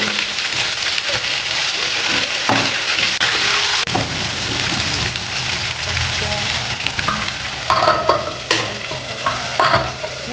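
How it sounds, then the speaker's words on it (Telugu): Bitter gourd pieces frying in plenty of oil over high heat, a loud, dense sizzle up close, with a spoon stirring and scraping the pan at irregular moments throughout. "కొంచెం ఆయిల్ ఎక్కువ వేసుకోండి, మరి ఈ కాకరకాయలు వేయించుకోవాలి కదా"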